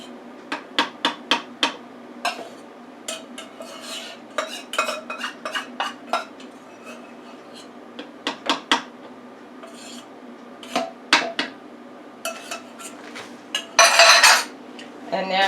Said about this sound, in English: I'm just trying to scrape all of it into here.